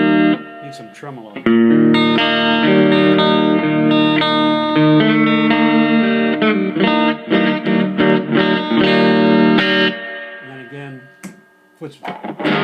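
Electric guitar played through an Acoustic G60T tube amp with tremolo, loud sustained chords and notes pulsing in a steady wavering rhythm for most of the stretch, then trailing into sparser picked notes near the end, with no voices.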